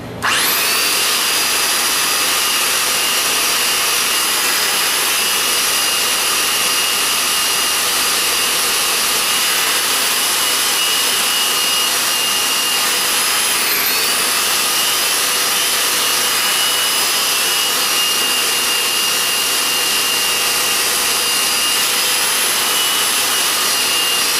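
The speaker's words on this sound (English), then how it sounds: "I'm just going to sand me one down to fit here." A plug for the end of a survival knife is sanded down with a power tool, which makes a loud, continuous whirring drone close by from start to finish with barely any change.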